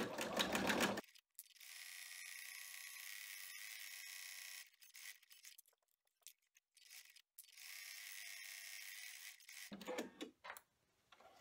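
An embroidery machine stitching an in-the-hoop case for a 2 oz sanitizer bottle runs with a fast mechanical whirring chatter in two long sustained stretches, separated by short pauses and brief clicking bursts.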